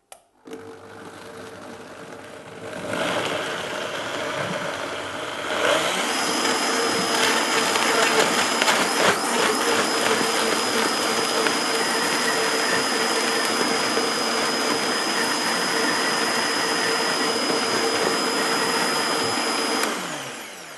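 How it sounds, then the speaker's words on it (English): A kitchen blender purees spinach soup, starting with a low whir at slow speed, then climbing to a loud, steady high-pitched grinding whine that holds until it cuts off near the end. "Now for the blend. We'll start off on a slow speed and then build up"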